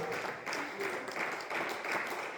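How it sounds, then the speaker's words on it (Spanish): Congregation in a church clapping together during a sermon, a continuous, fairly soft patter of hands with slight swells, no voices on top. "Den un aplauso fuerte al Hijo de Dios."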